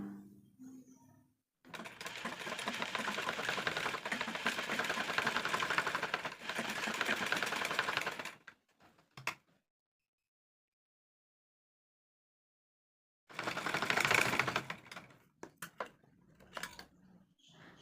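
A sewing machine stitches in a round along the piping on the yoke of a pleated nighty, with a steady mechanical run of about six seconds, a short burst later, and a gap of silence between them.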